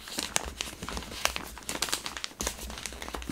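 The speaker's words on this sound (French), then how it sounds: "Alors attendez, je prends une lingette. Si j'arrive à ouvrir mon paquet." New plastic packet of makeup wipes being fumbled open, giving dense close crinkling and crackling of film for a few seconds, with no talk over it.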